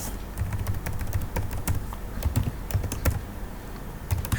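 Steady, close clicking of computer keyboard keys as commands are typed, in quick irregular bursts with brief pauses and no voices.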